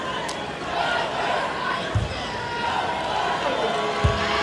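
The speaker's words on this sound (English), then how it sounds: "we got some Sparty fans mixed in the crowd that are celebrating" A basketball arena crowd, with Michigan State fans among them, roars and cheers steadily, with a few thumps standing out from the continuous crowd wash and a faint voice in the mix.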